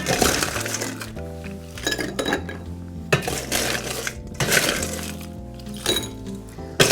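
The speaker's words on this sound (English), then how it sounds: "All we do is add some ice" Ice cubes clink and rattle into a metal cocktail shaker over lime juice for a Churchill cocktail, several loud bursts of clattering cubes with short pauses between, close and alone.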